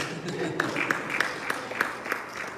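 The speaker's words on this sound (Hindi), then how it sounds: "बजा दो ताली फिर" An audience at a Bhagavat Katha gathering in a Houston Gaudiya Math temple claps in a steady rhythm, sharp hand claps evenly spaced and moderately loud over a low background murmur.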